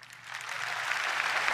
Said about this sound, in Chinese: 黄仁勋宣布英伟达与比亚迪联名的消息收到了在场听众的热烈鼓掌欢迎